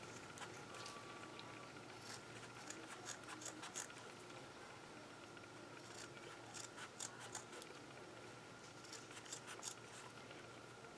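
Scissors cut into the edge of beige denim fabric for fringing: faint, repeated snipping clicks come in clusters over a low, steady background hum, with no talking.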